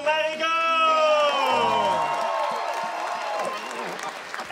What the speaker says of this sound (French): Encore une bonne main d'applaudissement pour Marigo!